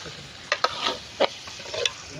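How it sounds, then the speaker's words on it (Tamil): Chopped tomatoes go into chicken masala gravy cooking in a pot over a village wood fire in the forest, giving a steady sizzle with a few sharp stirring knocks and scrapes, up close. "இப்போ நம்ம தக்காளி போட்டுக்கலாம்."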